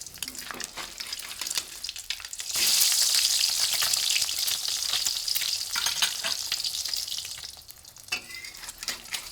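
Cracked eggs frying in a wok until the edges turn crispy, a loud, close, steady sizzle that swells to a bright hiss and then eases, with occasional stirring scrapes.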